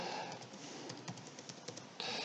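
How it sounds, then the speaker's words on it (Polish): Quick, uneven keystrokes on a computer keyboard, about a dozen faint clicks over steady background hiss as a password is entered. "Wpisuję hasło send i poszło"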